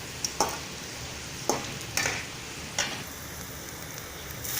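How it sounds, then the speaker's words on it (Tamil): Whole dried red chillies fry in hot oil while making puliyodharai paste, giving a steady sizzle broken by several sharp scrapes of stirring in the pan. "வரமிளகாய் அப்படியே முழுசாக போட்டுக்கணும். நல்லா வணக்கிக்கோங்க."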